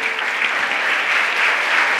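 Steady audience applause for an honoured elder at a public event promoting children's technology, dense and sustained at an even level for two seconds, with no voices rising above it.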